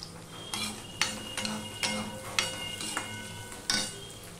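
Garlic is fried with browned onions in a pan, with a soft sizzle under repeated spatula scrapes about every half second, all close and fairly quiet.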